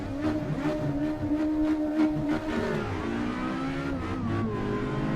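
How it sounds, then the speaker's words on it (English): A Ford Escort Mk1 race car engine in the video game Assetto Corsa roars steadily, revving and shifting pitch as it accelerates through the gears at Bannochbrae track, loud and close with no voices. "The sound of this car is just phenomenal."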